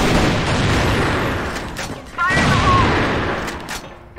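A grenade blast and gunfire in the shooter CrossFire, a heavy booming rumble rolling out, dipping, then surging again with a second burst, with a voice shouting briefly over the noise.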